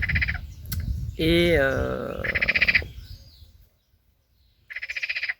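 Frogs croaking outdoors at an open-air art installation, in loud, close bursts of rapid pulsed calls with a stretched, wavering croak between them and a pause before the next burst, and a voice briefly speaks.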